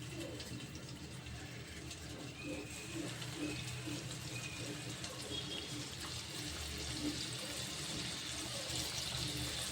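Samosas fry in hot oil over a low flame, giving a steady, soft bubbling hiss that continues evenly throughout at a moderate distance.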